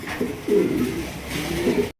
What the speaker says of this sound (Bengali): দর্শক এখানে রয়েছে একজোড়া লাহরি কবুতর দেখতেই পাচ্ছেন